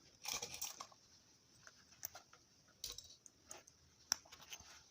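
Small sewing clips snap onto fabric while a zippered pouch is being assembled, producing faint, sharp clicks scattered at irregular intervals over quiet room noise.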